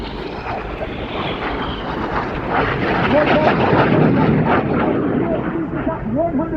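Red Arrows Synchro pair jets flying the Boomerang manoeuvre at the Cosford airshow, a loud sustained jet roar that swells and sweeps past, with an announcer's voice over the public address running over it.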